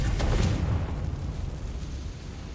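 A single booming blast from the Confringo fire spell in Hogwarts Legacy, a heavy low burst at the start that rumbles and fades away over a couple of seconds.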